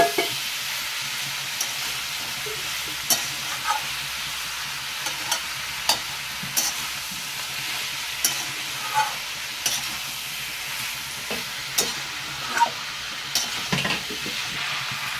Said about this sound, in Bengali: এবার কিছুক্ষণ সবজিগুলোকে আরেকবার নাড়াচাড়া করে নেব